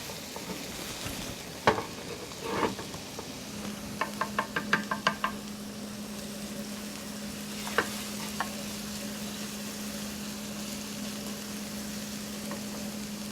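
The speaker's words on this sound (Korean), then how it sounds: "이렇게 해서 다진 마늘이랑 파를 좀 볶아줍니다. 기름이 나게." Minced garlic and green onion fry in oil for a shrimp stir-fried noodle dish, a soft steady sizzle broken by spatula knocks and a quick run of tapping scrapes near the start.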